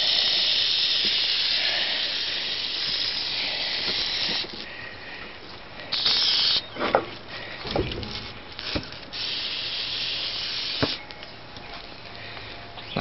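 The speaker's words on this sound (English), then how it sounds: "I just keep spraying and spraying and spraying" An aerosol can of Easy-Off oven cleaner sprayed on cast iron hisses in long sprays, pausing and restarting several times, with a few clicks and taps between bursts.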